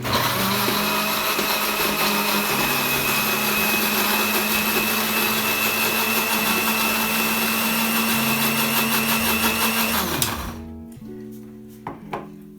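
A blender crushes carrot smoothie ingredients with lemon, running as a loud, steady motor whir for about ten seconds, then cuts off, followed by a few faint clicks.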